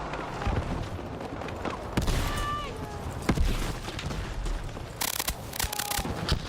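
Battlefield 6 gameplay with a sharp grenade blast amid rapid gunfire and clattering mechanisms, several impacts punching through a busy battle mix while players talk over it.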